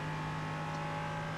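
A prototype race car at Spa-Francorchamps gives a steady, droning engine note that holds at even revs and stays loud and close throughout.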